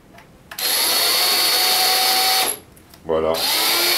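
Power drill running in two bursts while an automatic chicken coop door, built from old roller-shutter slides joined by a sheet-metal plate, is taken apart; a steady loud whine, a short pause, then another spin, with no one speaking.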